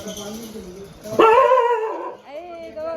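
A dog yelps and barks close by in a couple of drawn-out, whining bursts, with faint voices in the background.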